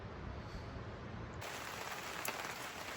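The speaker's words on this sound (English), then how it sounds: "with the crazy light drizzle rain" Light drizzle falling on a morning campsite during a road trip through Tennessee and North Carolina, a steady soft patter of raindrops that stays constant throughout, with a brief brighter splash near the end.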